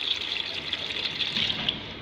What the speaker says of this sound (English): When it's done, I'll add my alcohol.